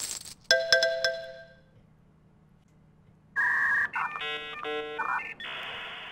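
Honest John's animation in The Simpsons: Tapped Out plays a bright, chirpy string of electronic tones that imitate a dial-up modem. A ringing chime comes first, then a pause, then a rapid run of stepped beeps and warbles ending in a hiss.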